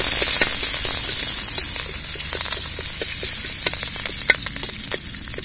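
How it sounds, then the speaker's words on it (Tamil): Cinnamon, dried chili and curry leaves sizzle and crackle loudly in hot oil for an egg fry, a steady frying hiss broken by sharp pops and spits, with no voices. "எண்ணெய் வந்து சூடாயிடுச்சு, இப்போ வந்து பட்டை மிளகா போட்டுக்கலாம். கருவேப்பிலை போட்டுக்கலாம்."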